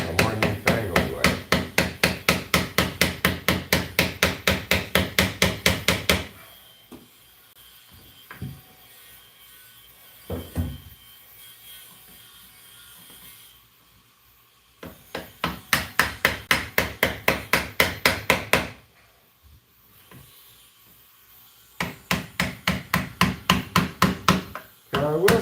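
Hammer and chisel striking wood in fast, steady bursts of loud close taps, pausing for quieter stretches with a few scattered knocks before the rhythmic chopping resumes twice more.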